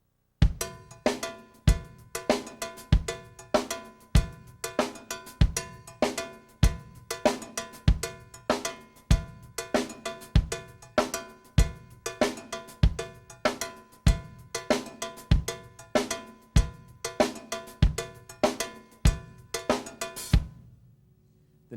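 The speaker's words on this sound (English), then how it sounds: "now I'm going to move to the cowbell" Cowbell struck in a steady, driving funk pattern over a hi-hat and snare groove, sharp metallic hits repeating evenly for about twenty seconds before stopping; no one speaks.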